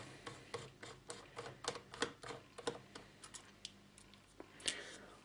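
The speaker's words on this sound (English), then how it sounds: "So let's go ahead and remove the screws." A magnetic screwdriver backs screws out of the underside of an Asus K55 laptop, making a quiet series of sharp, irregular ticks and clicks, close and isolated with no talk.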